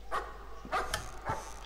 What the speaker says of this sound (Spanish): Se escucha un perro.